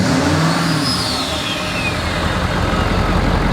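A Ford F250 Powerstroke diesel truck with a large built factory turbo revs and whistles, a loud engine roar with a high turbo whine that sweeps down as the revs fall, close and continuous.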